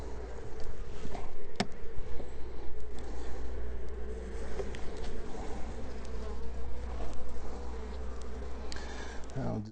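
Dense, steady buzzing of many honey bees swarming around an open Layens hive during a spring inspection, close and continuous, with a faint handling knock and a brief rustle near the end.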